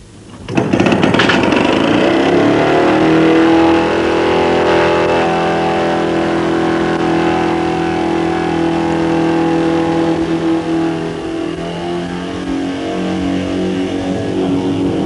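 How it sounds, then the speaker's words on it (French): A Villiers two-stroke 197 cc air-cooled engine on a light yellow-hulled propeller-driven machine starts up and runs steadily and loudly, a buzzing drone that holds throughout and eases slightly toward the end. "Le moteur, un Villiers 2 temps de 197 cm3,"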